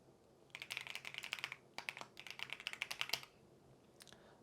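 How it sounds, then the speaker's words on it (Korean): Quick keystrokes on a keyboard entering an email address into a login form: two rapid runs of close, crisp clicks separated by a short pause, then a couple of isolated taps, quiet and with no talk. "가입한 이메일을 입력해 줍니다"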